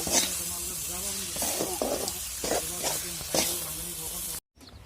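A banana flower stir-fry (kol dil bhaji) sizzles steadily in a pan, a continuous hiss punctuated by repeated stirring scrapes, then stops abruptly near the end.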